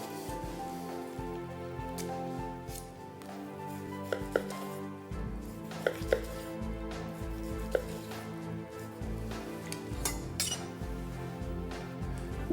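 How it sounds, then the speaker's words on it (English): A knife carves and trims a bone-in ham on a board, making a run of close, irregular cutting taps and soft knocks with occasional light clinks, and nobody speaks. "One thing that you might want to do is trim up the ham now a little bit."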